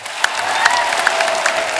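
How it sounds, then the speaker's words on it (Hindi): Studio audience on the Kapil Sharma comedy show breaking into loud, sustained applause, dense clapping with a few sharper claps standing out, no talking over it. "जोरदार तालियां एक बार हो जाए।"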